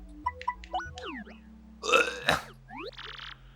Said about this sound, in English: Just a little burping beetle.